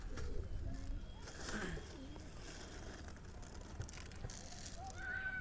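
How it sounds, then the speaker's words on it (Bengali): Soft coos of pigeons feeding on wheat come and go amid low background rustle and faint movement, gentle and close, with no clear talking. "দেখেন আমাদের শিকারি কবুতরটা খাদ্যর জন্য পাগল হয়ে গেছে"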